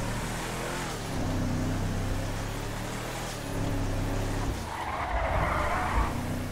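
Car sliding and skidding across grass in GTA 5, with a steady engine drone throughout and a brief rise of tire scrub near the end, no talking.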